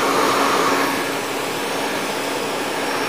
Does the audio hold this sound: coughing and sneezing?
no